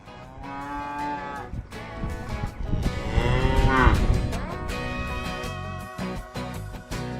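Several cows moo loudly and close by in a farm sick bay pen holding an ill animal and one with a bad foot, long drawn-out calls overlapping one another, rising to a peak midway before easing off.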